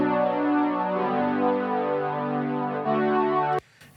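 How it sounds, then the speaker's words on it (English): A bright synth line in a festive, Christmassy pop song production, playing sustained layered tones across a wide range, loud and steady and alone, cutting off abruptly near the end. "I have this synth line as well, which sounds like this"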